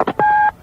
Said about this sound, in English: That's when the phone rings.